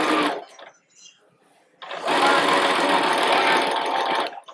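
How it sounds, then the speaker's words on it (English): A sewing machine stitches a sleeve seam on a Belle costume, running in a short burst, pausing, then a longer steady close whir; speech is faintly present. "now I'm gonna stitch regularly using the 5/8 seam allowance"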